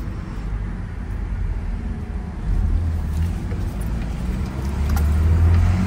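A 1989 Mazda B2600i 4x4 pickup drives and swings through a U-turn, heard from the cab as a steady low engine and road rumble that swells louder partway through, with no talking.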